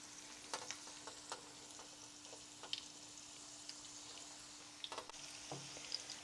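Oil frying in a pan that previously cooked meat, a low, quiet sizzle with scattered crackles and pops across the whole stretch, no voices.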